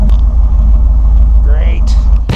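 A warmed-up 429/460 V8 in a 1976 Ford F100, which smokes on startup from worn valve stem seals, idles with a steady, deep, close rumble, and a voice speaks over it.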